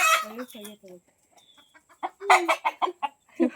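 Hens cluck in short bursts, fairly close, with some bird calls mixed in; sounds come in scattered clusters rather than a steady rhythm.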